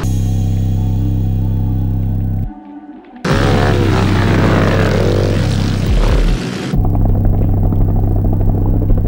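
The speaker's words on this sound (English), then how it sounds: "Let's go check out this mini bike madness" Mini bike engines run loud and close at a dirt racing event in Michigan, a buzzing droning roar that cuts out briefly, then returns stronger, dips again and resumes revving.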